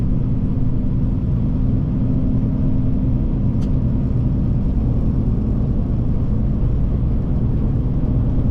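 A car cruises at night on the Pennsylvania Turnpike, giving a loud, steady low road rumble and cabin drone that runs unchanged from start to finish.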